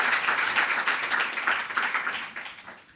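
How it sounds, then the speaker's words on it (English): Conference audience applauding after a session, a dense, even round of clapping that holds steady and then begins to taper toward the end. "Another round of applause."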